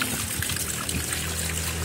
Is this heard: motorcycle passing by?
no